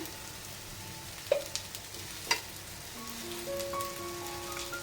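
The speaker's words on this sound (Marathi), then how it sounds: "आणि हा मीडियम गॅस वरती आपल्याला इथे भाजून घ्यायचा आहे" An upvas dosa roasts in oil on a pan over medium gas, giving a steady close hiss and sizzle with a few small pops and clinks, and no talking.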